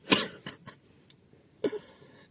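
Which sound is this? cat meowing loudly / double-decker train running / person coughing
person coughing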